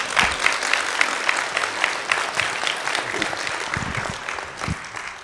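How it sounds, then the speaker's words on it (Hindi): An audience claps throughout, a dense, steady patter of many hands at moderate loudness, with a few louder individual claps standing out near the end. "अभी ताली बजाओ"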